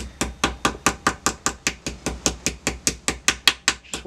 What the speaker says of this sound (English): I want to hold it and just gently hammer it on